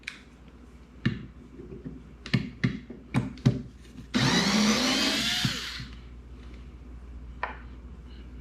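A Ryobi cordless screwdriver backing out a threaded screw: several sharp clicks and knocks, then a steady motor whir of about two seconds that winds down, followed by a lone tap, close and fairly quiet.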